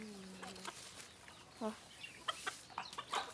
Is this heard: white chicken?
yes